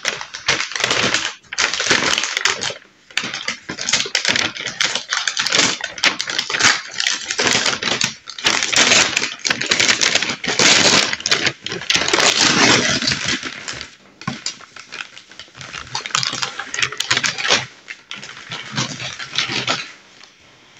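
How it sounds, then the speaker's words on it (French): Loud, close crinkling and rustling of paper goes on almost continuously, with only brief pauses between bursts of handling. "Moi aussi, je fais du bruit avec le papier."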